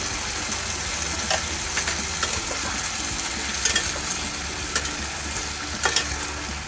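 Ridge gourd and potato posto with salt and green chilies is stirred in a pan, a constant low sizzle with occasional spoon scrapes and clinks against the metal, no speech.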